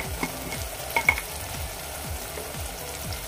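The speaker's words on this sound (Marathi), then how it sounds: "आता आपण फक्त 1-2 मिनिटं हे परतूया तेलामध्ये मसाले हे" Red chilli powder, garam masala, turmeric and salt frying in oil in a pan, a soft continuous sizzle with rhythmic spoon scrapes and a few clinks, nearby and without talk.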